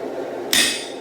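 A hammer strikes a hot Dane axe billet once, a sharp, loud metallic ring about halfway through, over a steady forge roar.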